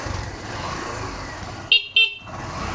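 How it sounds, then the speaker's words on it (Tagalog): The stock horn of a Barako 175 motorcycle sounds two short, loud honks close by, about a quarter second apart, over a low running-engine hum. "busina mo yung stock horn"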